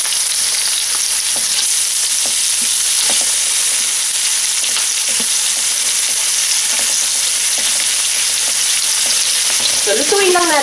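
Squid rings frying in a hot pan with softened onion and garlic for a Filipino-style seafood paella, a steady loud sizzle with occasional stirring scrapes throughout.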